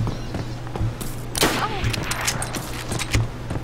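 Video game gunfire crackles in several sharp bursts amid busy game noise, with players talking over it.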